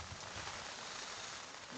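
Rain falls on an outdoor lawn bowls green during a pennant qualifying final, a faint, steady, even hiss with no break.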